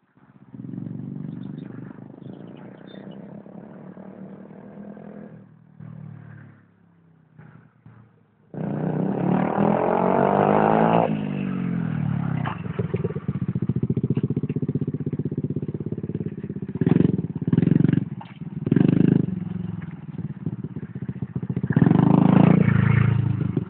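A small monkey bike engine revving hard during a wheelie, first a buzzing drone that drops away, then a louder sustained rising whine with throttle surges, close and outdoors.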